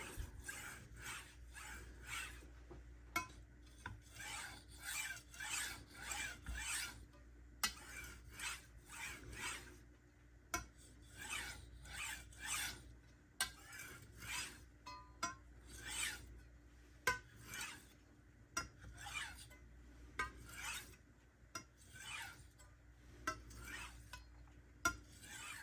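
A Ytuomzi chef knife is sharpened on Naniwa Hayabusa and Fuji whetstones, giving repeated rhythmic scraping strokes in bursts, each pass a clear rasp of steel on wet stone, close and steady with no talking.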